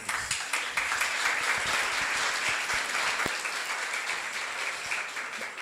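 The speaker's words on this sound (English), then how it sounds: "let's receive them with a big applause" Audience applause for students at a school achievement fair, a sustained burst of many people clapping with a few sharper individual claps near the front, steady and fairly loud throughout.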